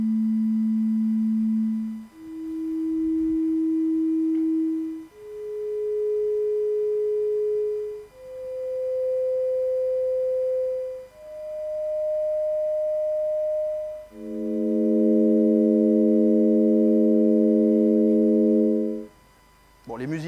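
A sonified Cepheid variable star pulsation plays as pure electronic tones: single steady notes step upward in pitch every few seconds, then several layer into a sustained chord before cutting off.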